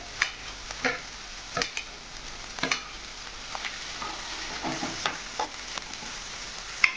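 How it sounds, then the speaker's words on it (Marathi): Cabbage, cauliflower and carrot fry in a pan with a steady soft sizzle, broken by irregular scraping clicks as a spatula stirs them, with no talking. "4 ते 5 मिनिटच आपल्याला याला थोडंसं असं शिजवून घ्यायचं आहे, जास्त शिजवायचं नाही आहे।"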